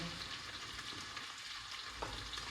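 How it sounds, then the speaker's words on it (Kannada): Sliced onions fry in a pan with a steady, dense sizzle and crackle that continues without a break. The sound is close and fairly quiet, and no one speaks. "ಇದು ಈರುಳ್ಳಿ ಫ್ರೈ ಮಾಡೋಣ."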